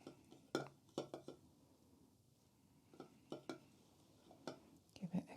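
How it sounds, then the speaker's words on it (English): A spoon stirs a teaspoon of honey into a drink, giving soft, close, quiet clinks and scrapes against the cup in a few short bursts with brief pauses between them. "Give it a good stir."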